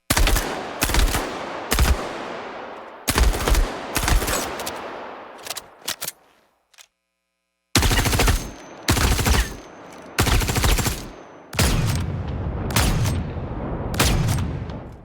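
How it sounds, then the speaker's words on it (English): Weapon fire from the space combat game Star Citizen, loud close bursts of rapid automatic shots in several separate volleys with heavy booming tails and one brief silent gap. "let's listen to some of our weapon sounds in action"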